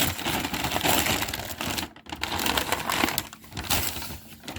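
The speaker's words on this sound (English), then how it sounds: "we're just gonna rip the bag up" Paper takeout bag from a Chipotle order being torn open up close, a dense run of crinkling, ripping rustles with a brief pause midway, no one speaking.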